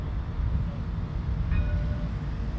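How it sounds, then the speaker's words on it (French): A three-car Alstom tram passes close by at Hauts du Chazal, giving a steady rail rumble. Faint high squeals rise near the middle as it goes by. "C'est le tramway du 3 wagons qui va passer."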